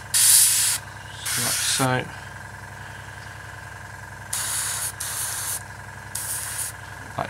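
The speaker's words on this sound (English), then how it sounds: "Just give that just a quick spray down." Aerosol spray bursts coating 1/48 Tamiya Spitfire Mk.1 model tyres in XF85 rubber black, five short hissing blasts in a stop-start rhythm, close and fairly loud, with a brief spoken remark between them.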